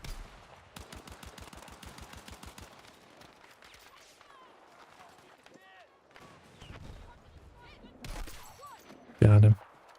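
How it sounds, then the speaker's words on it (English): Video game gunfire, a rapid rattling automatic burst early on, then scattered single shots and a louder blast near the end, moderately loud under intermittent talk. "I should be able to shoot that guy."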